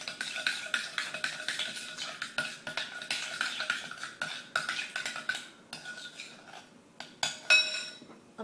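A utensil is stirred and scraped around a bowl while a sauce is being mixed, giving quick, repeated clinks and taps in an uneven rhythm, close and fairly quiet, with no talk.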